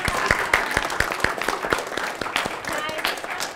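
Audience applause for speaker Tara Crawley at a survivorship panel event, a dense steady patter of many hands clapping throughout, fairly close and sustained without pause.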